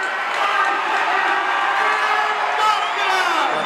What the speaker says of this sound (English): great roar of approval from Máscaras in the manner in which he won this